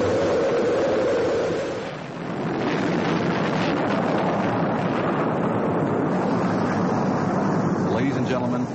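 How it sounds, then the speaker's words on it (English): Roar of a space shuttle main engine start at launch, replayed from a 1981 broadcast: a loud, sustained broadband rumble with crackling texture that swells steadily and stays dense throughout. "We have main engine start."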